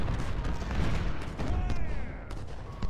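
Civil War artillery and massed rifle fire in the strategy game Ultimate General: Civil War form a dense, continuous battle din of booms and crackling volleys that does not let up.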